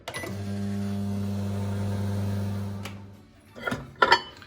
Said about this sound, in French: On va faire fondre 250 grammes de beurre au micro-ondes pendant environ 30 secondes.